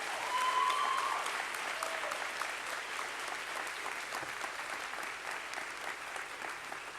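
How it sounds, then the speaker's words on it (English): An audience applauds student signees at a high school spring signing day ceremony: steady, even clapping that holds for several seconds, soft and somewhat distant, with no talking over it. "Please give a huge round of applause for all our signees today."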